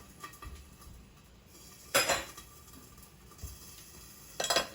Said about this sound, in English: Put a plate over it